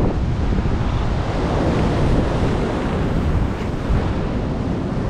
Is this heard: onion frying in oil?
no